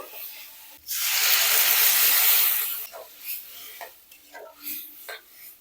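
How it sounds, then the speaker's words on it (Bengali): Poppy seed paste and spiny gourd stirred in a pan, a loud hissing sizzle that lasts a couple of seconds and fades, followed by several short scraping strokes of a spoon against the pan. "আবারও একটু নেড়ে চেড়ে নেব"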